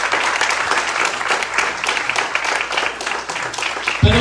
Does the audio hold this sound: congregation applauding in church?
yes